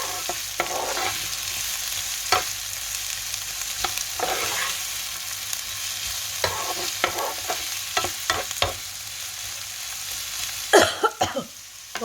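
Seasoning of lentils fries steadily in a pan until golden, sizzling, with several scraping stirs of a utensil and a brief clatter near the end.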